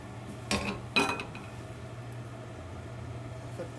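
Two quick metallic clanks of a hot pan as a crepe is flipped, close and distinct against a quiet background hum.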